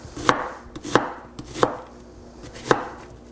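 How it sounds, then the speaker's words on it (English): A knife chops an onion on a cutting board: four or five distinct, close thuds at uneven intervals, alone with no voices. "Turn it over again and just chop it."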